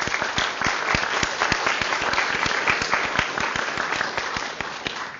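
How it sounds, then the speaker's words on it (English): A conference audience claps for the event organizers at a welcome session, with a brisk, even run of applause, moderately close and unbroken for the whole stretch. "let's start with a round of applause for them"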